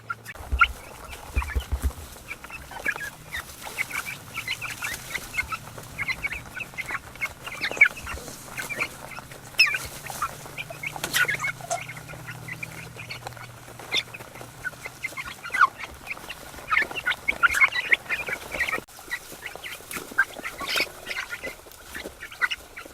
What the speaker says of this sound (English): I got 49 chickens in this chicken tractor